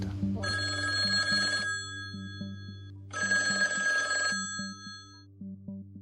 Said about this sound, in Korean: 전화가 울립니다.